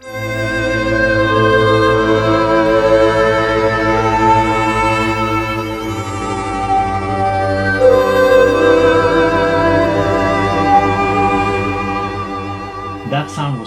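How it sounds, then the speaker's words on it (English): A soft synth preset called Village plays a sustained, layered tonal pad with rich harmonics, steady and loud throughout, ending with a brief bright transient near the end. "That sound was called Village."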